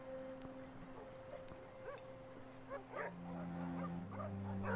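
Dogs in the video game The Pale Beyond, set in harsh cold weather, bark, yip and whimper in a scattered series of short calls over a low, steady background hum.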